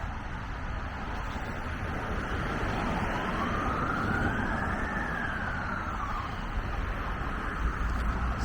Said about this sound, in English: This is maybe the ambulance coming back or responding